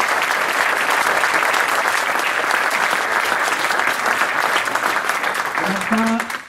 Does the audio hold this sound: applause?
yes